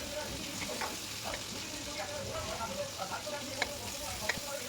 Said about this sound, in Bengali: তারপর চিকেনের কিছু টুকরো আমি দিয়ে দিলাম কড়াতে। তারপর দেওয়ার পর আস্তে আস্তে ভালো করে নেড়ে নেব।